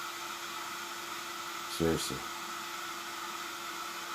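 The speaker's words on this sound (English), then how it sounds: "It's a hair dryer." A hair dryer hums steadily in the background, a faint even whirr and hiss, while one short spoken word cuts in near the middle.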